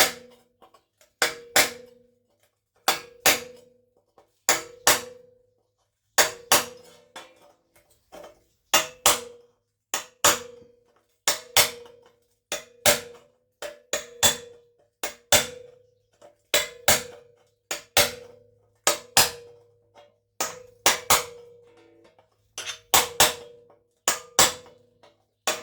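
Cold chisel struck with a hammer while squaring the rusted corner of a GMC door during repair: sharp metallic clangs in irregular pairs and short bursts, close and loud, spread across the whole stretch with quiet gaps between.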